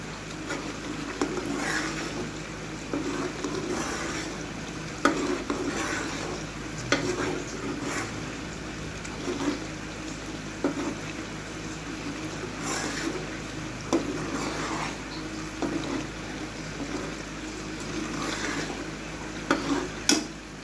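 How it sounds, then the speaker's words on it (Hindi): Butter being stirred with a spoon over a low flame while it cooks down into desi ghee, giving a steady soft bubbling with recurring scrapes and clinks of the spoon against the pan. "आपने हल्की फ्लेम पर इसको साथ साथ चम्मच हिलाते रहना है"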